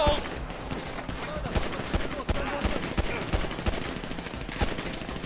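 Sustained shootout gunfire in Grand Theft Auto V, rapid overlapping automatic bursts and single shots cracking continuously at close range, with a voice talking intermittently underneath.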